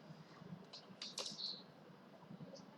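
A business name is typed on a keyboard, with a handful of light, quick keystrokes close by over faint room noise.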